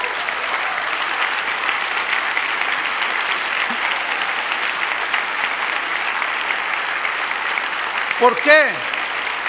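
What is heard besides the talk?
church congregation applauding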